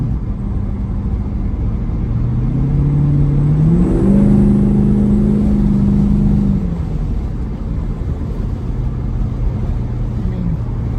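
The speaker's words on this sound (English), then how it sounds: "It's clearly smoking that tire." A 1985 Chevy C10 squarebody truck, lowered, revs loudly near at hand with a rising whine that peaks and falls back into a steady engine rumble as a tire spins.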